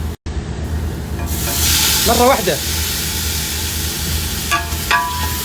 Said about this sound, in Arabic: يلا كب الطماطم